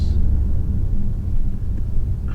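A 2024 BMW i5 M60 xDrive electric sedan produces its synthesized driving sound: a steady, deep rumbling hum that holds at even loudness throughout, close by and with no talking.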